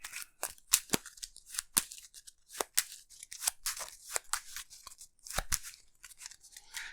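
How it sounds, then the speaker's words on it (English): Cards from an Arkham Horror encounter deck being shuffled by hand, a close, quick run of crisp riffling snaps and flicks that come in uneven bursts. "and then we shuffle the encounter deck"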